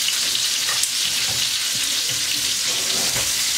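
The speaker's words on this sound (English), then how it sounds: "I put it in the pan to get some of the greases and rendering it off" Roast beef browns in a pan alongside bacon ends, giving off a loud, even, close-up sizzle of rendering fat with faint stirring scrapes and no speech.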